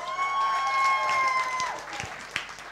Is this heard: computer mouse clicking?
no